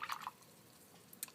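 A paintbrush swished and tapped in a cup of rinse water during a watercolor color-wheel exercise, giving a few faint, close drips and light splashes at the start and a brief tinkle near the end, with quiet room tone between.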